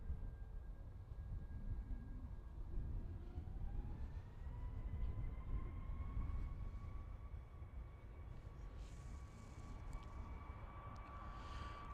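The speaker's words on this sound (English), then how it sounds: "we've got the TUI Boeing 737-800 MAX off to Dalaman" A TUI Boeing 737 MAX takes off from Manchester Airport bound for Dalaman. A distant, low roar steadily builds as a thin turbine whine rises in pitch and holds, with no voices.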